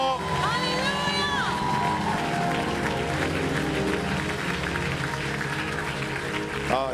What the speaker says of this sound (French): Est-ce qu'on peut bénir Dieu par nos acclamations?